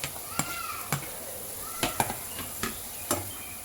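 Onions and green chillies frying in a pan, with a steady quiet sizzle broken by several sharp clinks and scrapes of a utensil stirring against the metal.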